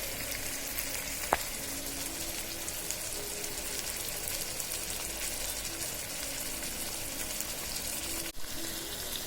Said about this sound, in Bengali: আমার সরপুঁটিগুলো একদম ফ্রাই করা শেষ